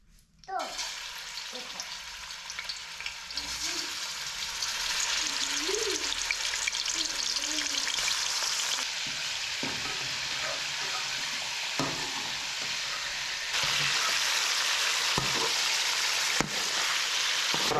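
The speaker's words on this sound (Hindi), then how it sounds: "Fry chicken." Chicken in a green coating frying in a pan on a mountain stove outdoors, a steady loud sizzle with occasional stirring scrapes, continuing throughout without speech.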